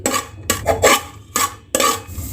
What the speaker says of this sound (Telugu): ఇప్పుడు దీన్ని ఒక 2 మినిట్స్ కలర్ చేంజ్ అయ్యే వరకు వేయించుకోవాలి.